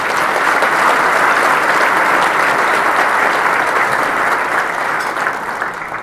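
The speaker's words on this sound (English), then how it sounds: "So a round of applause for those." An audience claps loudly and steadily for the sponsors at a town's annual State of the Town event, a dense wash of applause that fades slightly toward the end.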